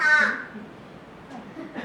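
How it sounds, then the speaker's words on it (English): An American crow named Millie cawing at close range, one loud, harsh, drawn-out caw that fades into quiet room noise, followed by a softer rasp at the end. "So that is Millie, our American crow."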